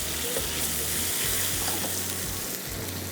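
Meat frying with salt in a pan gives a steady, close sizzle with a few stirring scrapes, and no voices are heard.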